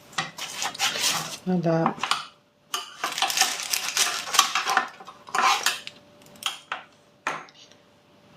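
A knife or cutter scrapes and clinks against a plate or pan while a minced meat and mushroom pizza is cut, in irregular bursts of metallic clatter with short pauses, and a voice briefly speaks over it.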